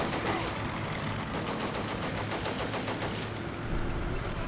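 Heavy gunfire from the video game Combat Mission: Beyond Overlord, rapid bursts of automatic fire rattling in steady sequence over a constant rumble of battle, loud and close, with no voices.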